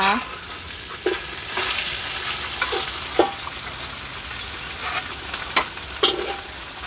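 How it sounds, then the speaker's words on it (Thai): Pad thai stir-fried in a wok over a wood-fired stove at a traditional stall run for over 30 years: soft frying sizzle broken by a handful of sharp spatula scrapes and clanks at irregular intervals. "ก็มีการผัดสองรอบนะคะ"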